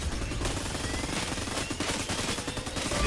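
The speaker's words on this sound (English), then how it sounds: "I was using the shots firing behind me to give me kind of a boost of momentum" Sustained rapid gunfire in the Lawbreakers shooter game, a dense, loud stream of overlapping shots and bursts with no pause throughout.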